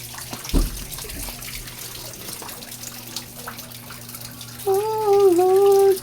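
Water from a tap runs steadily into a container on a farm, a broadband rush continuing throughout, followed near the end by a loud tonal voice or call.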